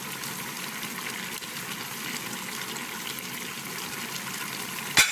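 Edikang Ikong soup with beef simmering in a pot, a steady dense bubbling and gushing wash that stays constant and close, ending in a brief sharp knock, with no talking.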